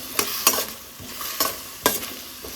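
Chopped tomato, garlic and onion frying in a pan, with a steady low sizzle broken by several sharp scraping stirs at irregular intervals, close and moderately loud with no voices.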